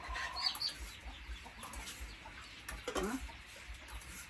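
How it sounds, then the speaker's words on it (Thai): Chickens cluck faintly outdoors at a rural Thai home, with a few scattered calls over steady background noise. "ไก่ไก่"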